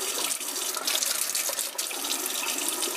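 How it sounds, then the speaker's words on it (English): Hot water runs steadily from a kitchen sink tap, a continuous close splashing hiss that fills the whole stretch without talk. "we just sit this down in the sink, and then I just turn on the hot water."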